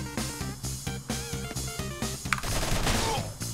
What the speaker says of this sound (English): the rapid fire functions of my gun